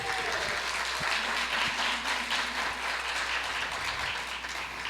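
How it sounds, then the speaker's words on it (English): Sustained applause from a keynote audience for Tougaloo, a dense even wash of many hands clapping for the whole stretch, fairly loud and steady, with a brief voice faintly audible at the start. "please give Tougaloo a round of applause"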